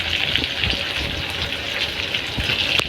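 Pangas fish fries in plenty of hot oil, a dense, steady hissing sizzle held close and loud throughout, with a few faint pops and clicks.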